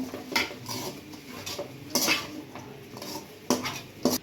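A spoon scrapes and clanks against a pan while chapati noodles are tossed with salt, a handful of sharp metallic knocks spaced irregularly over a quiet background, with no talking.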